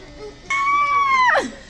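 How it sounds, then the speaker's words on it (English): A young child at a barber shop lets out a single sustained high-pitched scream lasting about a second, ending in a sharp downward slide. "Me and my twin screaming."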